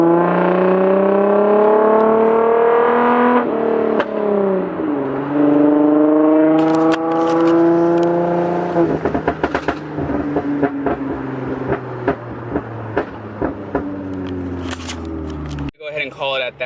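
A Nissan 350Z/G35 engine revs up and down through several long, rising and falling sweeps, then settles into a run of sharp, crackling exhaust pops. The sound is loud and close, and a voice talks over parts of it.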